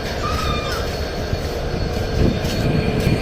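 The Kopotakkho Express, an intercity afternoon train hauled by an American EMD locomotive, departs from the far end of Rajshahi station. A loud, steady rumble fills the whole stretch, growing slightly heavier near the end, with a crow cawing faintly.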